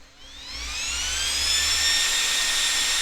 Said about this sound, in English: Noise for the fan.